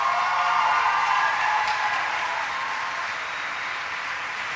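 An audience in London gives a loud, sustained round of applause welcoming a singer, dense clapping that holds steady and tapers a little toward the end.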